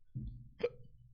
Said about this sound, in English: I had hiccups.